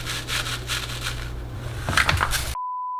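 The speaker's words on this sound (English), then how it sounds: "Taper candle in sand ASMR." A taper candle pressed and twisted into sand, giving a close, gritty rubbing and scraping texture that swells briefly near the end before cutting to silence and a steady tone.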